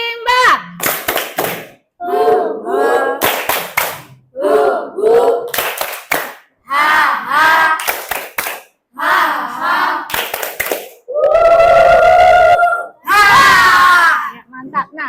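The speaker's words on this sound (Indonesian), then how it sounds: "Tepuk rimba." Children in a classroom perform a rhythmic group clap-chant together, bursts of clapping alternating with shouted chanting voices in a steady pattern, loud and close, ending with a sustained group shout.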